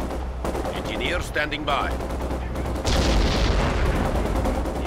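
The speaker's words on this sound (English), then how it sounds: "Taking fire!" Gunfire from a Company of Heroes 2 battle rattles in dense bursts under continuous radio-style voice chatter, with heavier shots and battlefield din swelling in the last couple of seconds.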